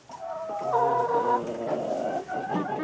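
Laying hens in a winter henhouse cluck and murmur up close, a continuous run of soft, overlapping calls with no voices.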